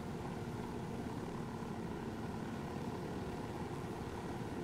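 A helicopter in Ghost Recon Wildlands makes a steady, even rotor and engine roar that stays constant at a distance, with no voices.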